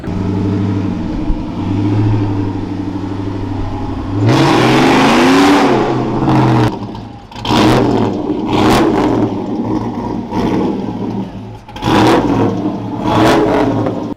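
A car engine with a Corsa exhaust revs hard and close by, with a steady idle that breaks into one long surging rev and then several sharp blips, loud and alone.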